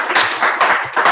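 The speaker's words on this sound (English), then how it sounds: "Round of applause for Sam." A short burst of classroom applause for a student named Sam, several people clapping together in quick bright bursts that swell and fade over about a second.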